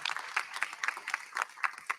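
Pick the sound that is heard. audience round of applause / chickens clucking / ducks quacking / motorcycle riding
audience round of applause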